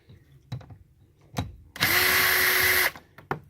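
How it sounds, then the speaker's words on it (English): Power tool backing bolts out of a 1999-2006 full-size GM pickup door, one steady whirring burst about a second long, close by, framed by a few light clicks and knocks. "So now we're going to take some bolts off here."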